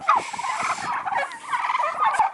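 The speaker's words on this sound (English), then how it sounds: "Turkeys are fun, they're so curious." Curious farm turkeys gobble and chatter close by, a continuous bubbling warble that rises and falls over a couple of seconds with no talking.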